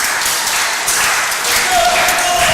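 Wrestling crowd at an IWA event in New Holland, Ohio, applauding and cheering for Vincent Cross before the bell, a steady dense wash of clapping and shouting, with voices mixed in throughout.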